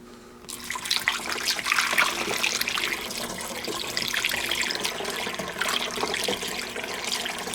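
More water gushes into the tank of a Thetford Porta Potti 155 camping toilet in a steady, close splashing pour that carries on evenly from start to finish.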